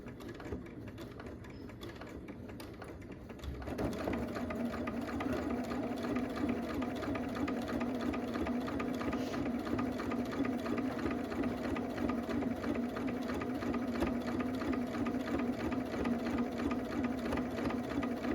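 A sewing machine stitches fabric along a marked line: a few soft mechanical clicks, then a loud, steady, close whirring run of rapid stitching for about fifteen seconds without pause.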